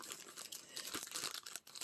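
Scissors cut into a plastic Amazon package holding Staedtler tinted watercolor pencils, giving quiet, close crinkling and tearing of plastic in uneven bursts with a few sharper snips, no voices.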